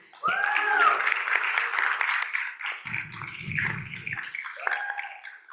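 An audience at a city commission meeting breaks into loud applause and cheering for a Rookie Teacher of the Year, with steady clapping across the stretch and whoops rising over it.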